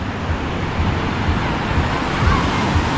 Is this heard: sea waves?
yes